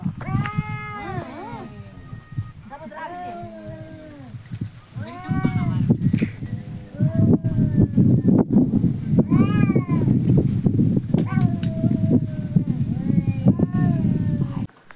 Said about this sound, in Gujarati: અમારી વાડીમાં એ મીંદડા બાંધે છે